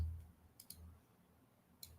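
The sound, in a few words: computer mouse clicking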